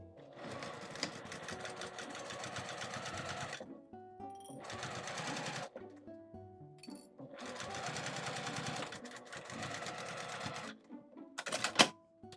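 Sewing machine stitching a lined mini pouch with a 5 mm seam allowance, running in several steady bursts of rapid needle clatter with short pauses between, close and fairly quiet.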